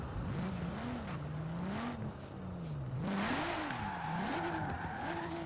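A 750-horsepower BMW M4 in Forza Horizon 4 revs hard while its tires squeal through a drift, the engine note rising and falling in wavering sweeps under a steady hiss of tire noise, with no talk.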